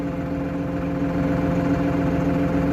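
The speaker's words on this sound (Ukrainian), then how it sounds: "Ось ми маємо від трактор вже запущений, він у нас працює." A Solis tractor with a cab runs at idle, a loud, steady, close engine drone with an even low hum and no voices.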